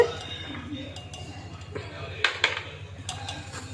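Prawn biryani is served from a pot into a dish, with a run of metal spoon scrapes and sharp clinks against the vessels while a voice talks softly underneath.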